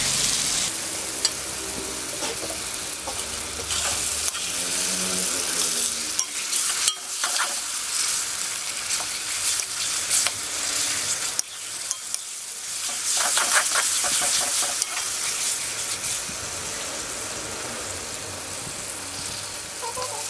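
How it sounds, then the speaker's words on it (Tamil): Tomatoes with ginger garlic paste sautéing in a pan for a South Indian mutton curry, a loud continuous sizzle close by with scraping stirring strokes and no talk. "தக்காளி கொஞ்சம் வதங்கினதுக்கப்புறம் இஞ்சி பூண்டு பேஸ்ட்டு சேர்த்தா போதும்."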